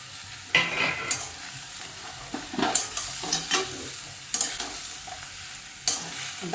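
Ridge gourd and eggplant pieces with turmeric powder stir-frying in a pan, a close sizzle with repeated spatula scrapes and knocks coming in bursts.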